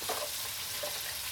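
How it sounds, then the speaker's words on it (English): Chicken wings frying in a deep fryer give a steady, close bubbling sizzle that holds evenly throughout with no voices. "our first batch is finna come out the fryer now"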